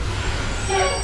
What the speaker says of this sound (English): Now you might hear a trash truck outside,